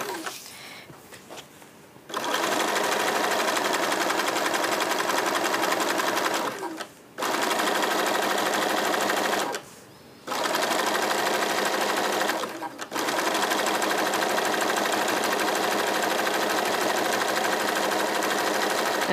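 Sewing machine stitching the sides of a bag made from jelly roll fabric strips, running in long steady bursts with brief pauses between seams, close and loud.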